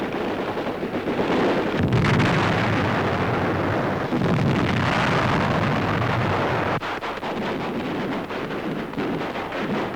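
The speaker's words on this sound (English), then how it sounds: "Machine guns firing live ammunition send bullets inches above their heads." Machine guns fire live ammunition just overhead during army nurse training, heard as a dense, continuous roar of rapid gunfire that is loud and distorted, with no voices.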